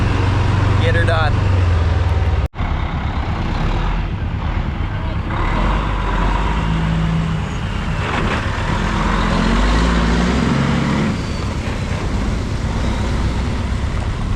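A semi truck drives across a road on a farm, its steady engine rumble mixed with wind noise. The sound runs continuously at close range under faint voices, with one sharp break near the start.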